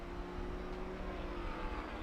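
A Porsche 911 GT3 race car in Trans Am qualifying at Watkins Glen, heard as a steady distant engine drone with a sustained tone and no clear pass-by swell.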